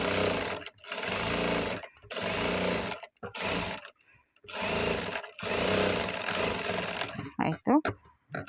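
Electric sewing machine stitching a fish cut hand design border, running in loud steady bursts of about a second each with short pauses between, ending in a few quick stop-start stitches.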